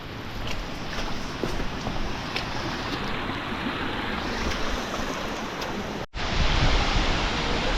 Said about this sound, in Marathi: हा जबरदस्त वॉटरफॉल लागले आपल्याला या ठिकाणी